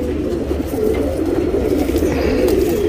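Makshi and Dhooma pigeons cooing in a low, steady murmur, a soft continuous burble of overlapping coos close by with faint rustling and background hum throughout.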